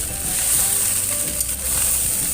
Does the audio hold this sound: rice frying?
yes